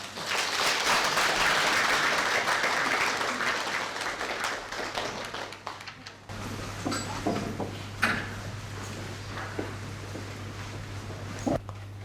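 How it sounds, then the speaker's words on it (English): Audience applause welcoming a Rinpoche to a teaching event, a warm wash of clapping that starts fairly loud, fades out over several seconds, then gives way to room noise and a steady hum with a few stray knocks. "Now let us welcome Rinpoche with warm applause."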